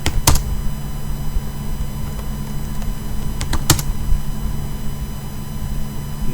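Typing on a computer keyboard, with a few sharp, close key clicks over a constant electrical hum and background hiss.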